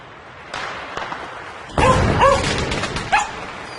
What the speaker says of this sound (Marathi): अरे मोत्या, तो घाबरतोय. He is scared of the crackers.